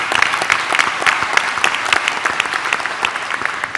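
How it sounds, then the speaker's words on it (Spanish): Loud, dense applause from the comuneras and comuneros of Cheranástico at an outdoor gathering of the P'urhépecha people in Paracho, Michoacán, a steady wash of many hands clapping close by with no speech over it. "Un fuerte aplauso para las comuneras y comuneros"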